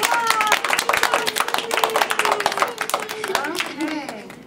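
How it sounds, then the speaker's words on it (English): A classroom audience claps for Cindy's snowy owl project, a dense burst of many hands applauding close by that tapers off near the end, with voices talking over it. "let us give Cindy another round of applause"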